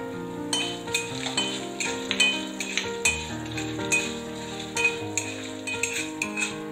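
Chana dal, urad dal and dried red chillies fry in a pan while a utensil stirs them, giving crisp rhythmic scraping and clinking over a soft sizzle.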